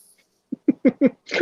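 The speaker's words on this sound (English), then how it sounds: "That's twice I heard a dog" A dog at a girlfriend's home makes a quick series of four or five short, rising barks or yips, moderately close and alone, ending in a louder, breathier burst.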